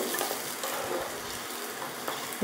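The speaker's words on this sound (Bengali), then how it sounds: "ঘিয়ের সাথে একটু আলুটাকে হালকা করে ভেজে নেব" Potatoes frying lightly in ghee in a pan, a soft continuous sizzle with faint crackles and a few stirring scrapes, heard close and alone.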